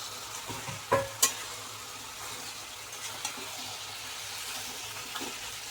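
Vegetables and a fish head are stirred in a pan for a spicy Manipuri fish curry, with a quiet sizzle and a few sharp scraping clacks of the spoon near the start, then soft intermittent scrapes.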